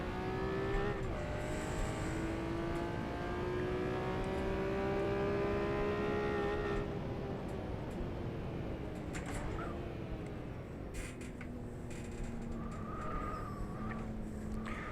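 A Honda NSX street car in the rFactor 2 racing game revs hard on track, the engine note climbing and falling through gear changes, loud and close with faint tire noise.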